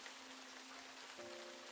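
Rain falling in a video game, a faint, steady hiss of rainfall with a low tone coming in partway through.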